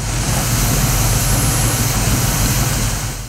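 A tractor engine runs at a steady, loud idle with a deep low drone while grain is loaded into a seeder, continuous throughout with no voices.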